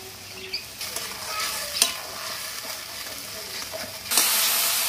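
Masala of ginger paste, chopped tomato, salt and turmeric sizzles steadily in a pan while being stirred, a continuous hiss with scraping strokes, growing louder and brighter near the end.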